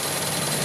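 A Jaguar AJ30 V6 engine fitted to a 1971 Gilbern idles with no load, giving a steady, even rumble that stays constant throughout the short stretch.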